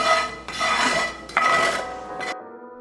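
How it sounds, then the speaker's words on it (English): A plastic spatula scrapes crumbs across the surface of a cast iron skillet in three or four close, loud rasping strokes, with dish and utensil clatter and no voices. "you're gonna take a plastic spatula and you are just going to scrape them to the side"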